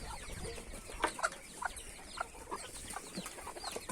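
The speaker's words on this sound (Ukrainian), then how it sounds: "Качки просяться вже гуляти." Soft clucks and chirps from ducks and chicks being let out of their coop, scattered over a quiet farmyard background, with a few louder calls standing out irregularly.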